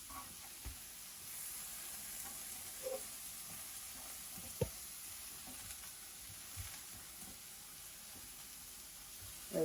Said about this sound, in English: I'm going to go ahead and flip them now, since they've been searing on one side